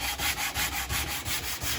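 Wood being sanded by hand with 80 grit sandpaper for a jewelry box, a steady back-and-forth rasping in even strokes, close and fairly loud, about eight passes with no talking.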